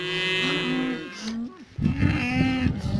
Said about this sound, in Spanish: Estoy rodeado de todo vacas.